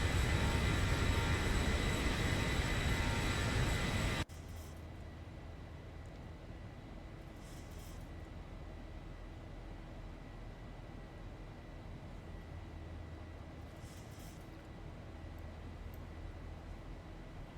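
Airliner on flight FR3792 departing Milan Bergamo, a loud steady broadband engine roar that drops abruptly to a quieter, even cabin rumble and hiss for the rest of the clip, with no talking.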